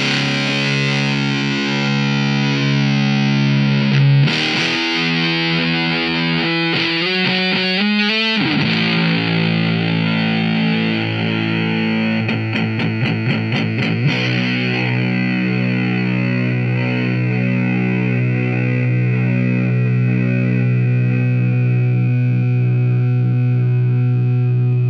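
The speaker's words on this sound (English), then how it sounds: "layering this on gives it this ultra-saturated sound" A heavily saturated, fuzzy electric guitar plays sustained chords and a few quick rhythmic stabs, ringing out loud with long, buzzing sustain.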